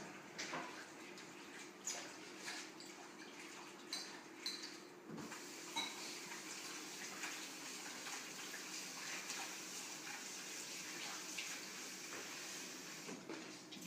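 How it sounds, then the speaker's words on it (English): Water runs from a kitchen tap to wash lettuce, a faint steady hiss and splash that continues throughout with a few small knocks near the start. "I'm about to turn on the water."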